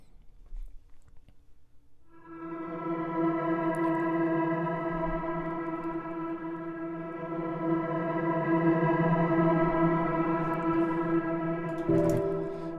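Spitfire Audio Tundra orchestral patches Awesome Blade and Sky Bellows swell in as a sustained, rich layered chord with heavy reverb and shimmer, holding steadily for over ten seconds before a brief shift near the end.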